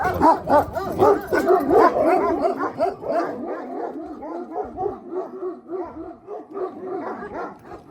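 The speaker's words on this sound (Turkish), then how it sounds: "Her, her köpekle gidiyor, dalaşıyor." Several Karabash dogs bark and yip excitedly over one another in a rough, overlapping fight, loud and close, with whimpers mixed in.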